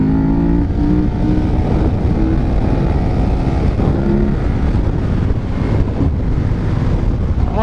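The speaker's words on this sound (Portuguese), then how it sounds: "A moto sobe muito bem velocidade, é aqui uns 200." A KTM 1190 Adventure motorcycle, remapped, running at around 200 km/h on a German road, its engine a steady loud drone buried under heavy rushing wind noise, with the engine note rising in pitch as it pulls harder.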